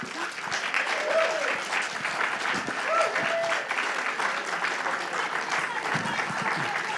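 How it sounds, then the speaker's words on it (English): An audience at a public meeting on the SoHo/NoHo neighborhood planning report applauds after a speaker, a sustained crowd clapping that fills the room evenly with a faint voice underneath. "I just asked if you could keep the applause to a minimum so we can get through"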